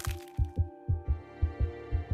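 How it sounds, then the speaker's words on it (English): Rhythmic heartbeat thumps in the video game Genshin Impact, a steady series of paired low beats repeating about twice a second, fairly loud over a quiet background hum, with no talking. "I hear a heartbeat."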